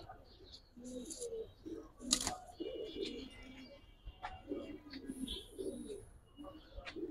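Giribaz and colored pigeons cooing, soft throaty coos repeating close by with a few higher chirps mixed in, against a faint background.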